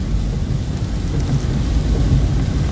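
Heavy rain roars steadily and close with low thunder rumbling underneath, a dense, unbroken wash of sound with no voices.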